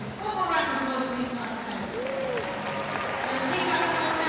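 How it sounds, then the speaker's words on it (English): In the Glasgow arena at the 2026 Commonwealth Games women's artistic gymnastics qualification, the crowd applauds as a broad, steady wash while an announcer talks over it through the whole moment. "One more round of applause, please"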